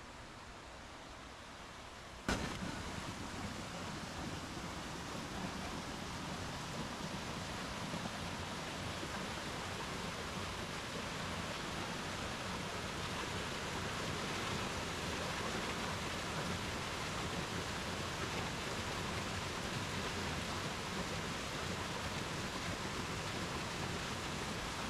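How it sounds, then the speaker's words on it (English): Upper Comet Falls in Mount Rainier National Park pours down as a steady, broad rushing roar of falling water that stays constant throughout, after a brief quieter moment at the start. "This must be Upper Comet Falls."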